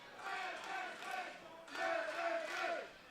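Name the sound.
wrestling crowd cheering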